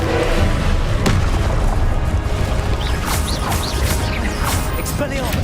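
Fiery spell blasts from Incendio and Confringo in the game Hogwarts Legacy, a loud continuous barrage of booms and crackling bursts layered over dense battle noise, with a sharp impact near the start and shouted incantations heard nearby.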